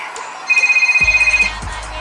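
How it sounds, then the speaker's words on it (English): A mobile phone in the video game GTA IV rings with a rapidly pulsing electronic tone that lasts about a second, followed by a low rumble from the game. "Oh, phone call."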